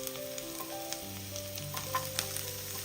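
Shallots and green chillies frying in a pan: a quiet, steady hiss of hot oil with a couple of soft stirring clicks, heard alone with no voices.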